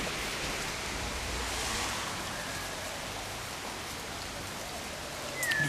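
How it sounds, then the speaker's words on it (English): Rain falling steadily outdoors during a tropical cyclone, a broad even hiss of drops at constant strength, no voices. "Yes, it's raining again. But this time it's a cyclone."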